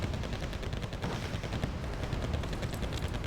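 Dense, continuous gunfire and explosions from the real-time strategy game Wargame Red Dragon, a steady rumbling battle din with rapid overlapping shots throughout and no talking.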